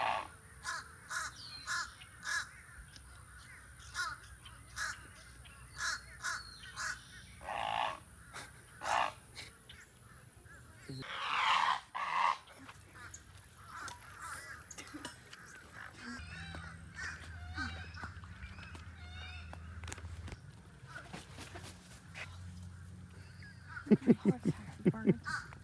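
Birds call at a nature walk, a series of short, sharp caw-like calls repeating through the first half at moderate distance, later giving way to rustling handling noise, a low hum and a few brief louder clicks near the end.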